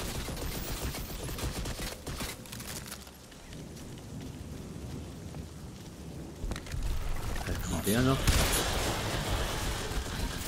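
Gunfire in the PS5 game Crysis 2 Remastered: a loud burst of shots and rattling automatic fire near the start, a quieter stretch, then more shots and explosive hits later, with someone talking over it.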